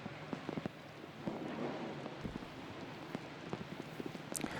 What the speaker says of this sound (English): This rain is really coming down, and lightning in the sky.